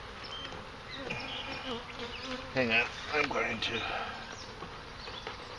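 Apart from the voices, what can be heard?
bees buzzing around an open beehive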